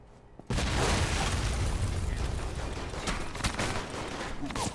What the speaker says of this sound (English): I'm reading a C4 explosion in your area.